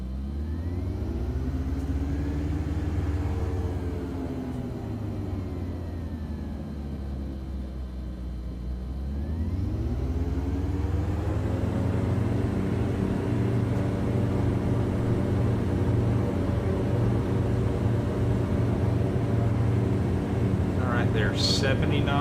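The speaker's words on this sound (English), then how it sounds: "you can hear the engine sounds on this thing here" A Diamond DA-50RG aircraft engine in a flight simulator game drones steadily and loudly, with low harmonic tones sweeping down and back up as the throttle changes, then holding a sustained rising roar; a person talks over it.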